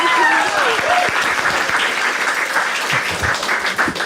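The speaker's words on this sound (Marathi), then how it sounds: "एकदा टाळ्या वाजायची." An audience at a stand-up comedy show bursts into loud, sustained applause, dense clapping that holds steady throughout, with a voice briefly audible at the start.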